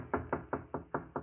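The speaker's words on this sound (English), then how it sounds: "I was in my room when there was a knock on the door." Six steady knocks on a door, evenly spaced and fairly close, sounding alone in a 1951 radio drama with no voices over them.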